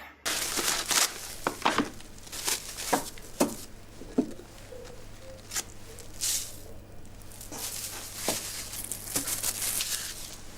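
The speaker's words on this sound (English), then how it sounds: "cut open some PG tips" PG Tips tea bags are cut open with scissors, giving close, intermittent snips and soft paper crinkles in irregular bursts against a quiet background hum.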